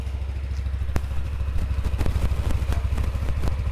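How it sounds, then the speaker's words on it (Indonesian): A Yamaha NMAX scooter idles steadily just after a radiator coolant change, its low, even thrum close by with a few light mechanical clicks and no talking. "Sekarang kita coba tes nyalakan motornya."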